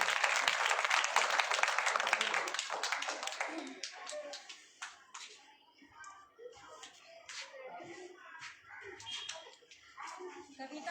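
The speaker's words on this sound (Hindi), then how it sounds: "और एक जोरदार तालियां इन बच्चों के लिए," An audience gives a round of applause for three children, loud dense clapping that gradually thins into scattered claps and small taps, with voices speaking in the background.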